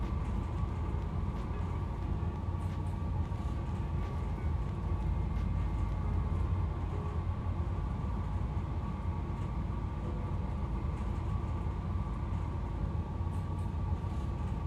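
A train in Train Sim World 4 rolls along with a steady, continuous low rumble and hum, with no break and no one talking, across the whole stretch.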